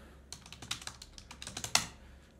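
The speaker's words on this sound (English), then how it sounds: "then we type time tracker" Quick, close clicking of keys on a computer keyboard, a short burst of typing with irregular rhythm over a quiet room hum.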